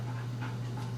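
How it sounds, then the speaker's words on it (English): A young puppy pants steadily close by, with faint whimpering whines rising over the breathing, alone without talk. "She's a puppy."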